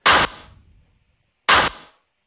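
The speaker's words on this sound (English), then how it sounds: "Let's mess up this clap a little bit." A distorted clap sample in a music production beat strikes twice about 1.5 seconds apart, each a loud, sharp, gritty hit with a short decaying tail and silence between.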